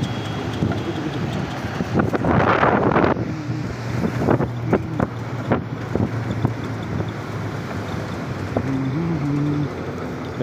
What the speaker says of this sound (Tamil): தண்ணி அப்படியே ஓடுது பாருங்க